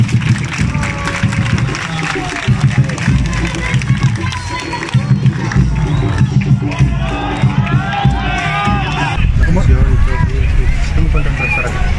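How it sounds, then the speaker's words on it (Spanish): A football crowd in the Estadio Óscar Alberto Quiteño in Santa Ana applauds players during a friendly match between C.D. FAS and Deportivo Mixco, a steady roar of clapping and cheering under continuous talk. "la afición aplaude también a los jugadores"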